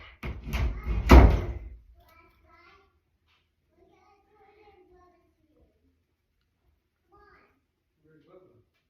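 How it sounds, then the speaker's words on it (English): A door in a house is shut with a loud, close bang and brief rattling thud near the start. Soft, faint voices follow in the background afterward. "Shut the door back."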